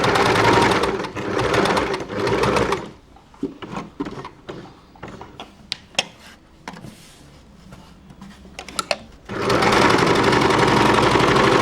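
A sewing machine stitching a baby frock runs in two loud, close bursts at the start and end, with quieter handling, clicks and fabric rustles in between.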